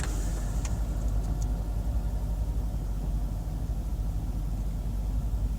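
Kenworth truck with a 35-ton trailer pulling away, a deep steady engine rumble with heavy low-end drone that holds fairly loud throughout, with no voices over it.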